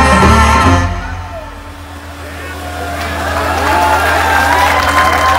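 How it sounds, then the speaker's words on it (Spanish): Wedding guests in Copandaro de Galeana clapping and cheering at a reception, building from a loud start into a broad crowd roar with a low steady hum and some voices mixed in. "Fuerte, fuerte el aplauso"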